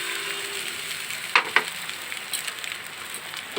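Hot boiled water is poured into spice masala frying in a pan for an egg curry, bringing a steady hiss of sizzling with two sharp splashy bursts partway through, close and moderately loud.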